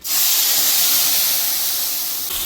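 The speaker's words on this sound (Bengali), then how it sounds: "মিক্স করা মশলাটা ঢেলে দেব।" Mixed spice paste blended with water poured into a hot pan for cooking tilapia with bottle gourd and potato, giving a sudden loud, steady sizzling hiss that holds for a couple of seconds.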